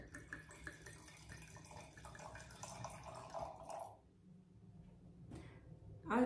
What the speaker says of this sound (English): I'm gonna give the beautiful Miss Eva a pour